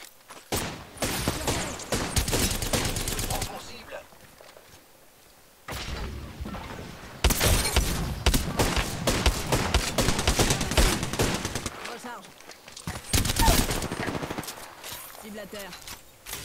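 Sustained automatic gunfire in the video game Apex Legends, long dense bursts with brief pauses and a few quieter gaps, loud and close, with French-speaking voices talking over parts of it.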